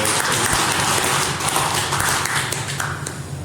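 A church congregation at a New Year's Eve worship service claps vigorously together, a loud, dense wash of hand claps with a few sharper taps, tapering slightly toward the end.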